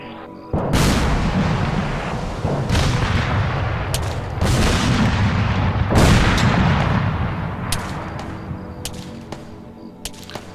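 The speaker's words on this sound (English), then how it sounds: "he's firing the mortars off" Mortar artillery in the Arma 3 video game fires several heavy booms a few seconds apart, each a loud, close thump followed by a long rumbling tail, with no talk over them.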